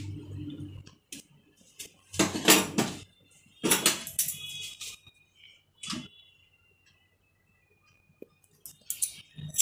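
Scissors snip through long hair during a haircut at a barber's, in close, crisp clusters of quick clicks separated by short pauses, with no talking.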